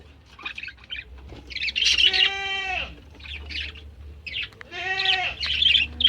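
Four newly hatched baby birds, kept with goats on a home garden farm, give bursts of shrill squawking begging cries, two longer harsh calls standing out among fainter chirps, close by with no talking.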